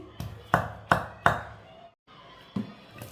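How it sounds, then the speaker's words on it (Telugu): Green chilies and tamarind are ground by hand for an ivy gourd curry, with a series of sharp, close pounding strikes in an uneven rhythm and a brief pause partway through. "పచ్చిమిరకాయలు వేసి చిన్నగా నూరుకోండి"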